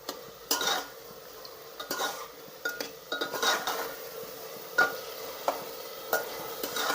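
A veg biryani with kasuri methi is stirred in a pot, giving irregular scrapes and clinks of a spoon against the metal over a quiet simmering background, with no talking.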